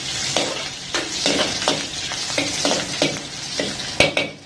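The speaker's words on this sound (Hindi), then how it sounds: "इसको अच्छी तरीके से सौटे करेंगे। ऑयल के अंदर इसकी खुशबू आ जानी चाहिए, जिंजर की और ग्रीन चिली की।" Ginger and green chili sautéing in oil in a restaurant-style kitchen for dry chicken chili: a steady sizzle broken by repeated scraping stirs of a utensil against the pan, close and fairly loud, with no talking.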